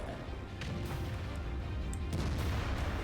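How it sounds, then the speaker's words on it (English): Tank cannon shots striking an E100 heavy tank in World of Tanks, a dense continuous rumble of booming impacts and crashes layered with battle noise throughout, fairly loud and without talk. "Shots going in against that E100."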